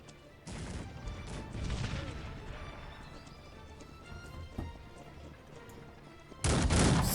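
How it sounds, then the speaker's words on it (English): Cannons firing in a real-time strategy video game battle, scattered booms and crashes among busy unit noise at moderate level, ending with a loud, sudden burst of noise. "Sanyok again shooting with his cannons"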